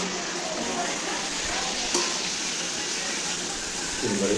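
Biryani frying in a pan, a constant close sizzle with scraping stirring strokes, steady throughout.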